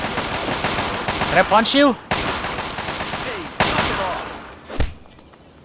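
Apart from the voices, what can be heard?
gunfire between enemies in video game Fallout 3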